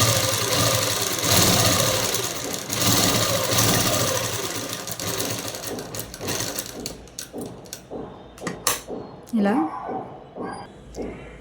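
Sewing machine stitching a model dress, running in a steady mechanical whir that fades into a few short stop-start bursts, with someone talking over it.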